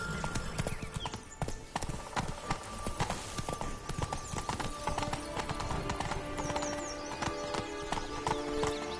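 Roach, Geralt's horse in The Witcher 3: Blood and Wine, gallops with a steady, close drumming of hooves and a brief whinny, while game music and ambient sounds play underneath.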